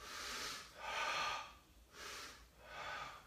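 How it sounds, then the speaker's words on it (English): Slow, steady breaths from a person holding a half-kneeling windmill stretch, soft and close, with two long airy inhale-exhale cycles and no talking. "and I breathe here"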